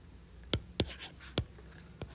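Pen writing on paper during a lecture on MESFET current equations, four or five short scratchy strokes, close and quiet, with no talking.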